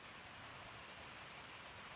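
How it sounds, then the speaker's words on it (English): Steady rain falling outside a barn in the evening, a continuous soft hiss of drops with no breaks, fairly faint and even throughout with no voices. "I don't know if you can hear the rain"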